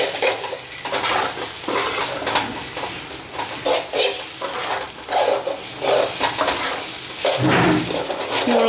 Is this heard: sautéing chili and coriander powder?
yes